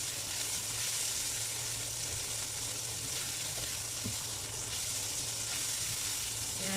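Meat sizzling in a hot pan for a stir-fry with Japanese pumpkin and wood ear mushrooms, a steady dense hiss that carries evenly throughout, close and moderately loud, with no voices.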